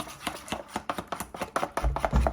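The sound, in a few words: mixing jerk sauce into butter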